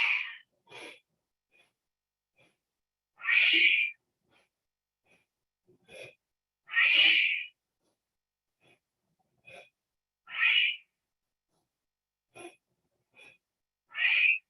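Slow, deliberate breaths drawn in through the nose and pushed out through the mouth come in a steady cycle of soft airy rushes separated by quiet pauses, close and intimate.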